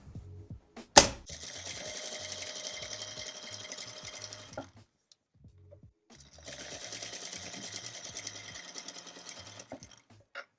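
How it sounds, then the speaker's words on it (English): A sewing machine stitches down a folded half-inch pant hem along the edge, running in two steady stretches of several seconds separated by a short pause, with a sharp click near the start. "now I'm just going to sew it down right along the edge"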